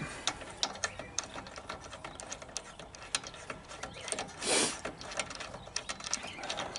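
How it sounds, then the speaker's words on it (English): Wrench loosening and unscrewing the spark plug on a Briggs and Stratton 500 engine: a run of sharp, close ratcheting clicks with a brief grinding scrape midway, no talking. "Take your wrench, loosen up your spark plug. Go ahead and unscrew that."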